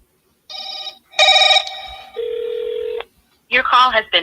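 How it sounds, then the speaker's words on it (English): Phone call being placed, with a short series of electronic tones and beeps, a held steady tone, then a burst of synthetic ringing or signaling, each separated by brief silences. "Let me call her right quick since she just responded."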